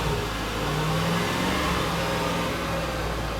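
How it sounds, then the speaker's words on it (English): An SUV engine, which needed a jump start from a 2000A battery pack, hums steadily as the throttle is worked, a continuous close drone without sharp revving peaks. "See, now we're working the throttle."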